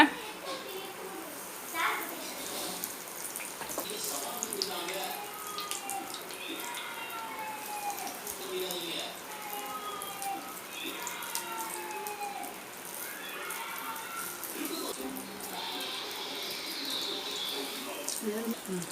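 Tapioca bonda, cassava fritters dipped in batter, crackle and sizzle faintly in hot oil with an irregular patter of bubbling, while a voice talks throughout.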